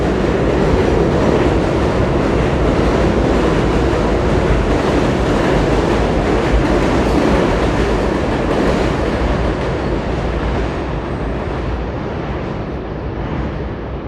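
A loud elevated train in Astoria, Queens, New York rumbles past close overhead, a continuous heavy roar with rattling clatter that eases slightly toward the end.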